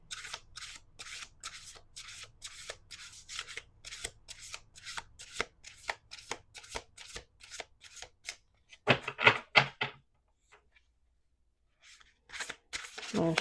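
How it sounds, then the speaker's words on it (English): A deck of cards is riffled and shuffled several times during a card reading. The quick, light flutters come close and fairly quiet, there is a louder burst near the end, and a short pause of near silence falls between shuffles. "We're going to do 2 more shuffles."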